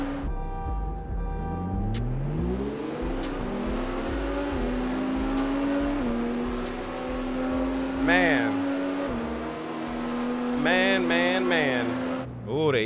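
Fast race car engines in the CarX Street racing game rev and climb through the gears, a steady rising drone broken by shift drops, with tire squeal and sharper engine bursts near the end and speech mixed in.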